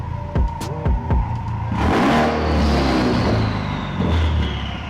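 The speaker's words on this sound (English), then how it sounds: "Give it one little rev in the garage." Ford Focus RS engine revving in a garage: a few short blips followed by one longer, louder rev that swells and settles, close and echoing, with no talk.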